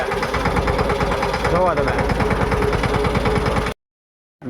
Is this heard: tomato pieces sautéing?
no